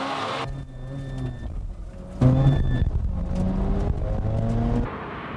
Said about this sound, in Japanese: 加速ははっちゃんがリード